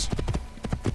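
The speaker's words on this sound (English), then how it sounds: "You jump over that tree, horse." Horse hooves clip-clop in a quick, steady rhythm as a mount gallops in the Assassin's Creed video game, loud and close throughout.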